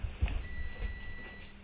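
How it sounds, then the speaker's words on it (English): A kitchen-style timer beeps during LED tail light color matching work, giving a single long, steady high electronic tone. It is fairly quiet, over low rumbling room noise. "there's the timer beeping"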